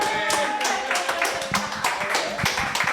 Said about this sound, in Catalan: Fort aplaudiment per ells dos, fort